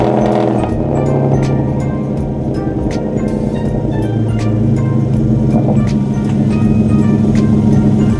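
A Genesis car engine runs and idles loudly up close, with a steady low hum and some clicks as the car starts moving.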